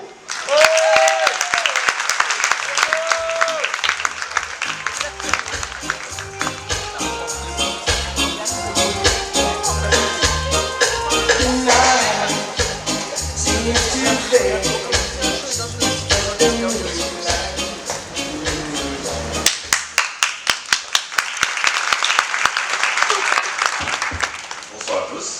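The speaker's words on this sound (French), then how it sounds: "Je vous demande un tonnerre d'applaudissements à l'instant" Audience applause greeting a performer named Diego on stage, a sustained loud wave of clapping and crowd noise that swells and holds for the whole stretch, with a few sharper claps near the end.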